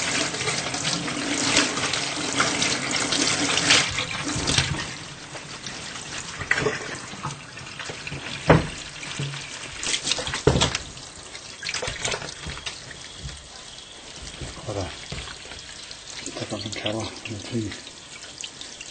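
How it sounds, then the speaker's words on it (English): Tap water runs steadily over pieces of salt-cured pork being rinsed clean of cure in a home kitchen sink, a continuous splashing wash with speech over it. "just rinsing the salt and cure it off the bits of bacon"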